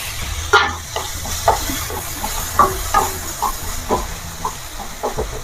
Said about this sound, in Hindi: ए मसलाटा भलो भाबे टिके फ्राई होला पर्यंत छाड़ी देबा